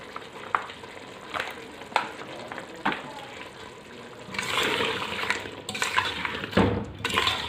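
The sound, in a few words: mutton and taro root frying in oil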